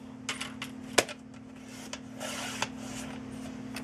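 A paper trimmer slices cardstock to a 4 3/8 inch width, giving a sharp snap followed by light scraping and rasping strokes of the blade, close and fairly quiet over a steady background hum.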